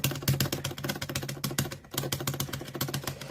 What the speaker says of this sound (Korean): 다음은 버튼 한번 눌러보도록 하겠습니다.